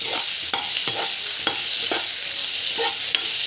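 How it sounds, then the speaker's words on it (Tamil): Tomato is sautéed with dried red chilies in a hot pan, giving a steady loud sizzle broken by a regular series of spoon scrapes and taps as it is stirred, with no talking. "டொமேட்டோ வந்து ஆட் பண்ணிக்கலாம். நல்லா வந்து வதக்கிக்கலாம்."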